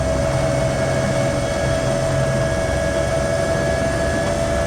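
Bell 206 helicopter in the X-Plane flight simulator with its rotors spinning up to full speed, a steady loud turbine whine and engine drone that holds constant throughout with no talk.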